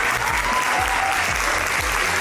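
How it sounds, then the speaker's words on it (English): A large crowd at a live event applauds as Nicholas Hoult is introduced: loud, dense, continuous clapping that holds steady throughout with no pauses. "Please, a huge round of applause for Nicholas Hoult."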